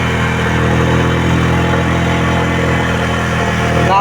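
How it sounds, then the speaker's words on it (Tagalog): A vehicle engine labors uphill on a very steep climb with a deep, steady drone under load, grinding on continuously at close range without speech. "Hirap ang makina oh."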